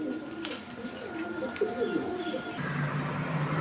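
Pigeons cooing at a pigeon market selling Giribaz, fancy and Lahori breeds, low rolling coos repeating close by, joined by chirps and crowd background murmur.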